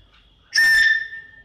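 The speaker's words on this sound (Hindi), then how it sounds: "ज़ोर से हवा में फेंकनी है ढक्कन से, कैप से, और उसके बाद ऐसी आवाज़ सुनाई देगी।" A loud, steady whistle blown across a pen cap rises sharply and holds clear for about half a second before fading, alone with no talking.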